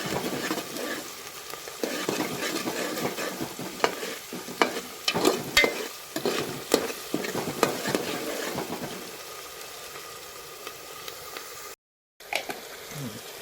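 Onion, green chilies and garlic frying in a pan, a close sizzle with repeated spatula scrapes and clinks that thin into a quieter hiss, then a brief dropout near the end.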